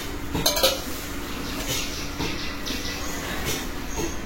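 A kadai, a metal cooking pan, being handled in a home kitchen, giving a few clanks and scrapes near the start followed by softer metallic knocks over a quiet background.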